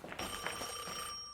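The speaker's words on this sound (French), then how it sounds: "Téléphone, Dante, c'est peut-être elle" A telephone rings in the video game Devil May Cry, a bright electronic ring heard fairly faintly and continuing steadily over ambient game sound.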